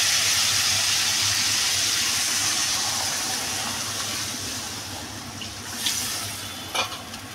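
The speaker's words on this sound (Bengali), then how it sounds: "আমি এবার পরিমাণ মতো দিয়ে দেবো জল" Water pours into a pan of sautéed spicy mustard-oil fish curry made with small mourala fish, giving a steady loud hiss and bubbling sizzle that gradually eases, with a couple of faint clinks near the end.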